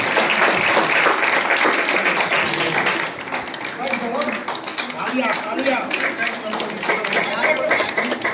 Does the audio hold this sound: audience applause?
yes